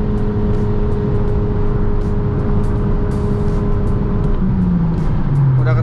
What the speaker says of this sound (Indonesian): Jadi mobil gua pokoknya dari akselerasinya, perputarannya kayaknya berasa cepet banget